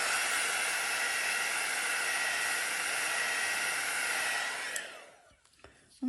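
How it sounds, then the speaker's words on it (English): A heat tool blows a steady, loud rush of hot air over wet acrylic paint, then cuts off near the end with a fading whoosh and a few small handling sounds. "just use my heat tool to see if it changes anything."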